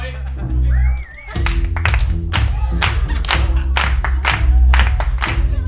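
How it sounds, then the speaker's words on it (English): Audience clapping at a live stage show as a guest is welcomed on, a scattered burst of claps running under someone talking loudly throughout. "Make them clap, make them clap."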